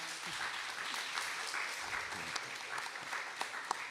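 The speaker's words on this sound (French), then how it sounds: "Arnaud Guest vous applaudit également comme vous allez l'applaudir." A crowd at a Golden Globe Race sailing event claps steadily for the skippers, dense and sustained applause with a few sharper individual claps standing out near the end.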